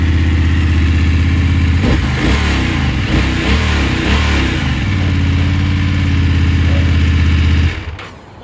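A 2021 BMW F850GS 40 Years Edition motorcycle engine fires up and runs close by, with a couple of blips of revving before settling to a steady idle, then cutting off near the end.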